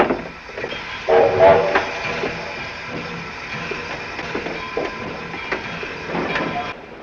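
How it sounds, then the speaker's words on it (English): A train rumbles and hisses steadily past in the 1944 film Double Indemnity, with clattering and faint whistle-like tones over a continuous rolling din. "Let the train pass."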